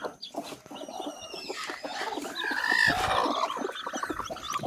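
A village hen with eleven newly hatched chicks, heard close as soft clucks mixed with thin high peeping of chicks, busy and irregular throughout.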